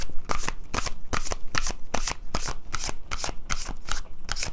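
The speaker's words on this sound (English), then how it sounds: "And let's pull a couple more cards." A deck of cards is shuffled in a quick, crisp riffle of rapid flutters and snaps, close and fairly loud, with no talk.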